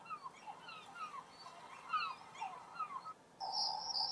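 Recorded birdsong plays through the infotainment system of a 2024 Kia Niro SX Prestige hybrid: a quiet cluster of chirps and warbling calls, then a brief steady electronic tone at the end.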